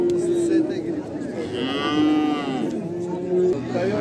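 At a busy livestock market for sheep and cattle, a cow moos loudly and drawn out over a constant crowd murmur, with other animals lowing nearby.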